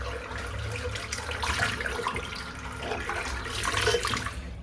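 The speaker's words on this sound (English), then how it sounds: "Just rinse the soap out." Running water rinsing Mitchell's WoolFat soap out of a Simpson Wee Scot shaving brush, a continuous close splashing gush with no talk.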